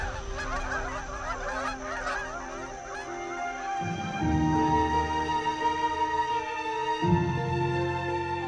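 A dense flock of geese honks continuously in the wetlands along the Yangtze, wintering birds calling over one another near and far, with a steady layered clamor that swells louder midway.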